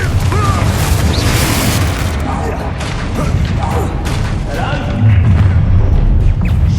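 A Confringo blast spell cast in Hogwarts Legacy booms out as dense, heavy explosive bursts over a rumbling low end, with a second strong blast near the end and game battle noise throughout.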